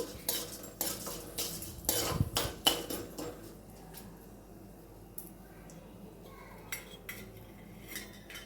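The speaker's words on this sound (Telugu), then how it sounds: "అలానే ఒక ఎండుమిరపకాయ వేసుకొని ఒకసారి కలిపేసుకొని" Dried red chilli stirred into a pan for ridge gourd thokku curry, with several sharp metallic clinks and scrapes of a spoon at first, then quieter occasional taps over a low background.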